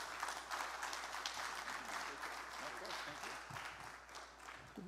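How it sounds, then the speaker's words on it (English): An audience at a talk with a congressman claps steadily for several seconds, a broad wash of applause with a voice faintly audible beneath it. "Let's please give another round of applause to Congressman Josh Harder."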